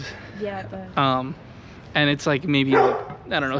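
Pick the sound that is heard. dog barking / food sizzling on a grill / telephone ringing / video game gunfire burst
dog barking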